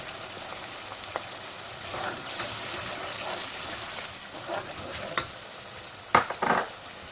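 Chicken with yogurt is roasted in a pan, giving a steady close sizzle with occasional spatula scrapes and a few sharper clatters near the end. No one speaks.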